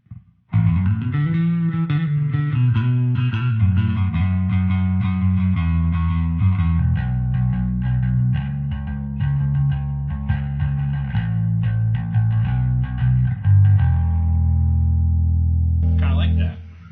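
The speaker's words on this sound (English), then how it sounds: "I'm going to throw in a little bit of soft spring reverb" A distorted electric guitar through a Traynor YT 15 amplifier plays chords and riffs drenched in soft spring reverb, loud and continuous, ending on a sustained ringing chord.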